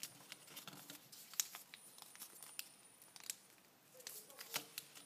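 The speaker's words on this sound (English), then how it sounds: "fold it to the center" Origami paper is folded toward the center while making a paper tulip, giving faint, soft crinkles, creases and light taps scattered irregularly in a quiet room.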